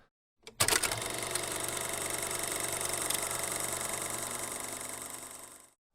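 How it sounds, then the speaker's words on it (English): A film projector reel runs as a sound effect: a click starts a steady, dense mechanical whirring rattle that holds evenly for about five seconds before stopping abruptly, heard alone without talking. "a podcast on film could incorporate a film reel sound."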